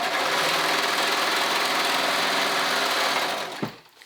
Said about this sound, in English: I'm gonna go ahead and sew that raw edge real quick right here